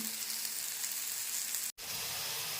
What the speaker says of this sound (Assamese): বিলাহীখিনি গলালৈকে এইখিনি এনেদৰে ভাজি থাকিম